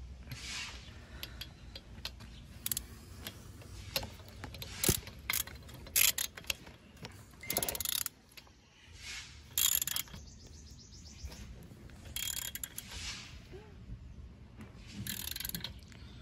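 A spark plug on a Yamaha PW50 minibike is tightened with a ratchet, giving quiet intermittent runs of mechanical clicking with short pauses between turns, close but faint.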